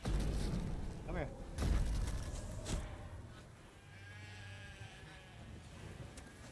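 Sheep bleating in The Witcher 3, a few wavering bleats at moderate distance amid low game ambience and thuds, with someone talking over parts of it.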